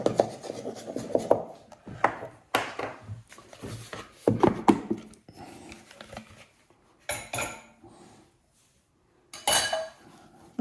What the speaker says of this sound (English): Get this rolled up into a ball. Knead it a couple of times.